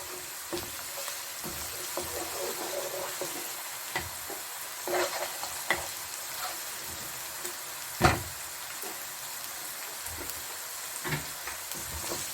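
Half a kilo of boneless chicken breast browns lightly in a pan, giving a faint, steady sizzle broken by scattered soft scrapes and knocks of stirring.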